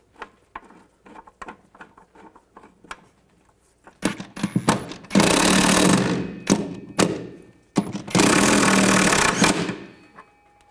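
A power tool drives a bolt into the upper mount of a rear shock absorber on a 2010–2017 Chevrolet Equinox, after a run of light clicks and handling taps, with two loud, sustained bursts of the tool.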